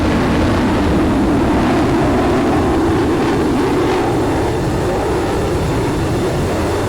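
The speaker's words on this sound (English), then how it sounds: "I put sounds up the maximum, so I'm literally deafened by the afterburner" Jet afterburner in the DCS flight simulator, a loud, continuous, broadband roar that stays steady throughout with no speech over it.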